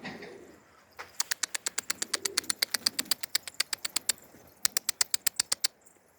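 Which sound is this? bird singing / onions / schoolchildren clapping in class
bird singing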